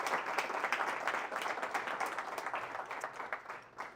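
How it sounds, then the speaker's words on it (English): Members at a curling club's annual meeting give a brief round of applause, a modest room of hands clapping steadily for a few seconds before tapering off. "So let's give Frank a round of applause."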